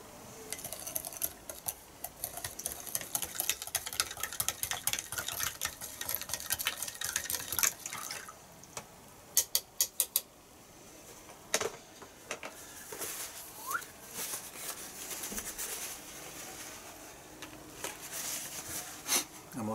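A spoon clinks and scrapes in a cup as a green powdered drink from a USA military survival pack is stirred with its back, a run of quick light taps in the first half, then scattered clinks over faint background noise.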